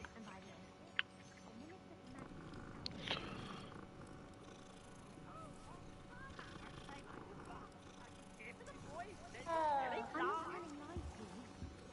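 Cat purring in the video game Hogwarts Legacy, a soft rumbling purr blended with game ambience and other creature sounds, with a voice talking over it at times.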